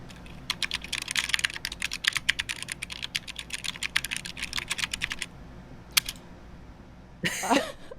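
Fingers type quickly on a mechanical computer keyboard in a steady, fairly quiet clatter of clicks. After a pause, a final heavier keystroke lands as the enter key.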